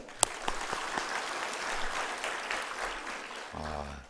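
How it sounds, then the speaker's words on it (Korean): A church congregation at an early-morning revival service claps for a newcomer, a dense burst of applause running the whole length before fading into a short spoken phrase at the end. "새 친구 나왔어요. 박수 한번 해주세요."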